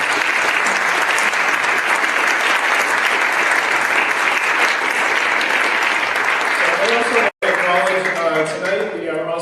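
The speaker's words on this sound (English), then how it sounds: "So can I get an applause for the students?" An audience at a joint finance committee meeting applauds students from a school showcase: loud, dense clapping that gives way to voices speaking near the end.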